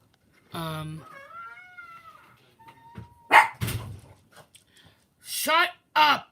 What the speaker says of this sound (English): These dogs really mess me up.